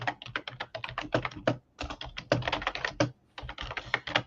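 Fingers tap rapidly on a computer keyboard, a close, clear run of crisp key clicks in quick bursts separated by brief pauses, with no voices present.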